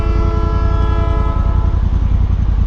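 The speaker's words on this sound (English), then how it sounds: "The guy loves the sound of that horn." A train horn blares continuously, loud and steady, with a rumbling engine and rail noise underneath throughout.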